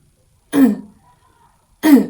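Two short harsh throat-clearing coughs, close and loud, separated by about a second of silence.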